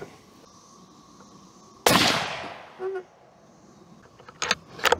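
A single loud rifle shot from a Savage 110 Trail Hunter chambered in 300 WSM, with a sharp blast and trailing decay, followed by faint clicks and a few short mechanical rattles, likely the bolt being worked.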